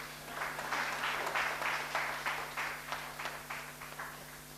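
Applause from a live audience at a Hindi poetry recitation, a steady patter of many hands that swells early and then thins into scattered, fading claps over several seconds, with no voices on top.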